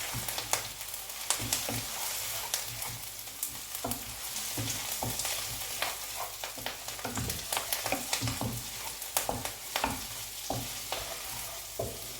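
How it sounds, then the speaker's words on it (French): Carrots frying in oil in a pan, a steady close sizzle with frequent scraping stirs and small clatters throughout, no voices. "je vais rajouter mes carottes dans l'huile, dans la poêle"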